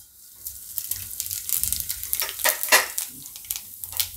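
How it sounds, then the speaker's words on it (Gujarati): Cumin seeds are dropped into hot oil for a Gujarati moong shaak and crackle in bursts of sharp pops and hiss that build and fade over a few seconds, close and fairly loud. "તેલ આપણું ગરમ થઈ ગયું છે તો પહેલાં આપણે એમાં જીરું નાખીશું"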